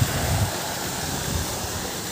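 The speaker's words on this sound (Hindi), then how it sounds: "ये देखा जी ट्यूबवेल चल रहा है लेकिन पानी ना गंदला है, गंदा पानी आ रहा है" Tubewell beside cotton fields pumping muddy water, a steady broadband rush of gushing water that stays constant and close throughout, with no voices.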